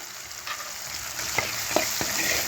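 Masala paste with turmeric fries in a pan, a soft continuous sizzle broken by a few sharp scraping strokes of a spoon as it is stirred, close and alone.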